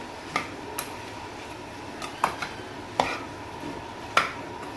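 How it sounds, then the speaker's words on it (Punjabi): Potatoes are mixed into a hot tempering in a pan: sparse, sharp spoon taps and scrapes land every second or so over a quiet background hiss. "ਤੜਕੇ ਦੇ ਵਿੱਚ ਹੁਣ ਆਪਾਂ ਚੰਗੀ ਤਰ੍ਹਾਂ ਮਿਕਸ ਕਰ ਦਾਂਗੇ"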